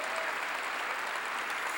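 Dense, steady applause from a church congregation fills the whole short stretch, many hands clapping at once at moderate distance with no break.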